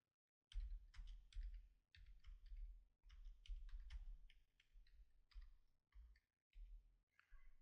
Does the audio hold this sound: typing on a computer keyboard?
yes